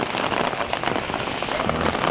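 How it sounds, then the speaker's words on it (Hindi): Steady rain falls on a surface near a guava garden during the rainy season, a continuous close patter of drops with no voices. "बारिश का मौसम और"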